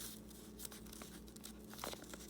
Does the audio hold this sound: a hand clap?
no